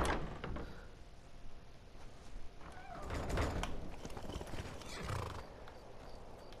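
Rhythmic clip-clop of horse hooves with a couple of whinnies in the video game Skyrim, moderately loud and close, over a faint synthetic ambience.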